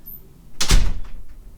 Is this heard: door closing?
yes